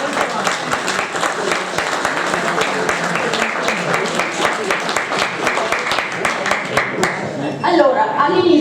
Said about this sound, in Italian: Faccio un applauso.